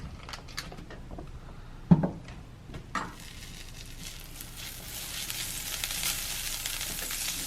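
Steak cooks in butter and olive oil, starting with a few sharp pops and spatters before settling into a steady, rising sizzle that fills the rest of the time, with no one speaking.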